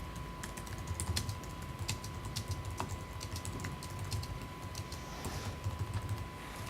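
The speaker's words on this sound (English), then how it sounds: "So whatever I type inside of it," Typing on a computer keyboard, a quick, steady run of close key clicks with a faint electrical hum under it and no voices.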